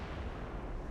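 Naval gunfire in a warship game featuring dreadnoughts and light cruisers, heard as a deep sustained rumble and boom that fills the moment without any talking.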